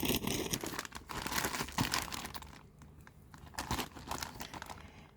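Package holding Audemars Piguet x Swatch wristbands being unwrapped, close crinkling and tearing of plastic wrapping in uneven bursts, loudest at first and then quieter rustling, with no talk.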